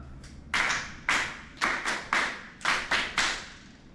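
A group in a music class claps a rhythm pattern together in unison, about eight sharp, ringing claps in an uneven pattern with short gaps, each decaying quickly in a reverberant room.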